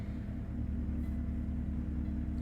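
Low, steady rumble of a heavy truck engine idling in American Truck Simulator, continuous and fairly loud with no talk over it.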